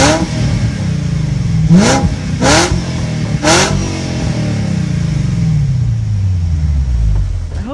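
A 1999 BMW 540iA with a muffler delete revs loudly several times in quick blips, then its engine note drops and settles back toward a steady idle rumble.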